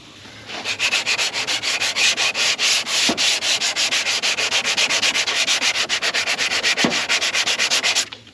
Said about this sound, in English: Using blocks and back and forth crosshatches